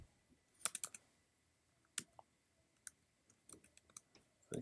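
Typing on a computer keyboard while writing code, soft quick clicks in uneven bursts and single taps, faint and close in a quiet room.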